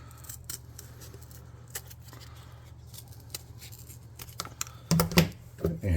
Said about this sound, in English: I'm just going to cut that out.